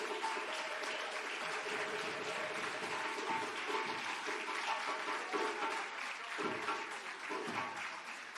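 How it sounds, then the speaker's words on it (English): Large audience at the 60th commemoration of El-Hajj Malik El-Shabbazz (Malcolm X) applauding steadily in a hall, a dense sustained wash of clapping with scattered cheers, no speech over it. "please stand and give yourselves a round of applause"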